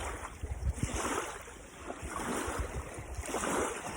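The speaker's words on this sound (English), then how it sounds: "It's not just water, and it's not just waves." Ocean waves wash in a soft, continuous surge with gentle rises and falls, moderately distant, under light wind noise and with no voices.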